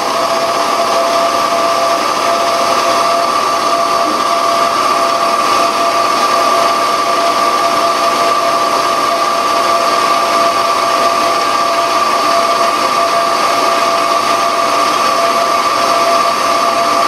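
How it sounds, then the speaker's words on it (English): Constant whir of a small mini lathe turning and cutting a plastic part, loud and close, with a steady motor tone that never changes and no talking. "I'm just using a little mini lathe."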